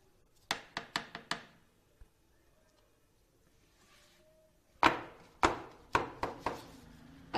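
A cake pan lined with butter paper and filled with one-egg tea cake batter is tapped on a counter, first a quick run of four knocks, then a louder burst of five or six after a quiet pause.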